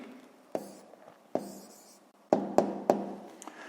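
Pen writing down the answer to a sixth-grade maths exercise: soft, close scratching strokes punctuated by a handful of crisp taps on the paper in a quiet room.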